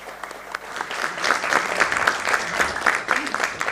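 Audience applauding in a hall as a guest speaker is welcomed at a retail business event; dense, steady clapping from a sizable crowd throughout, with a few louder bursts.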